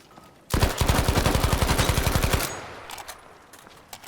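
Rapid automatic fire from an FG42 rifle in Battlefield 5 Firestorm, a dense burst of about two seconds with evenly spaced loud shots, then a fading tail and a few faint scattered sounds.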